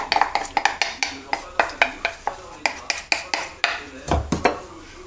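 Melted butter, chocolate and crushed Kellogg's cereal mixed together in a bowl, a utensil scraping and clinking against the sides in a steady run of sharp, close strokes with no talking.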